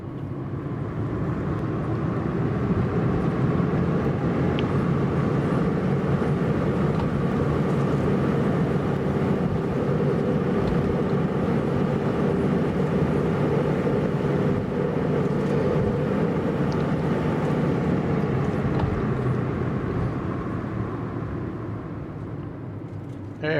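A sustained, loud, droning aircraft engine roar holds steady for over twenty seconds as a plane takes off in a flight simulator on Puerto Rico scenery, with a faint hum beneath it and no voices.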